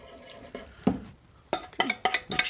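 Whisk stirring roux into a cream soup in a pan, with several quick metallic scrapes and clinks against the pan in an uneven rhythm, close and clear with no talking.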